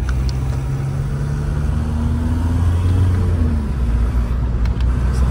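Steady low engine rumble from a Seat Ibiza 6L with a stage 1 tune and exhaust, idling or cruising at an even, moderate level with a faint hum and no sharp revs.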